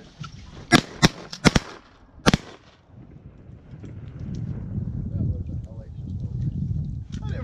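Gunshots during a Michigan duck hunt in a blizzard: about five sharp, loud reports in quick succession over two seconds, followed by a steady roar of wind and blowing snow.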